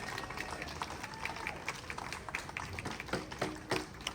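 An outdoor rally crowd at a United Nations peace gathering in New York applauds a Republican speaker, a dense, steady wash of clapping with some cheering mixed in, moderately distant.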